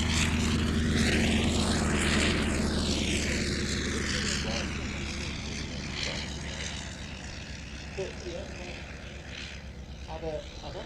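A reproduction propeller aircraft flies past at the Shuttleworth Fly Navy airshow, its steady engine drone sweeping in pitch as it passes, with crowd chatter and a voice underneath.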